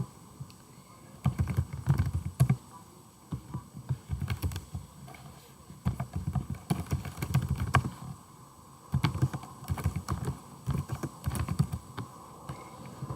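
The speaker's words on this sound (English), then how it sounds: "So I'm going to turn on my caps lock button and type everything in all caps." Typing on a computer keyboard with caps lock on, heard as bursts of close, rapid key clicks and taps separated by short pauses throughout.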